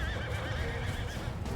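Horses in a large Mount and Blade Bannerlord battle between Vlandian and Khuzait armies, with cavalry charging: a loud, close whinny over clip-clopping hooves and dense battle noise.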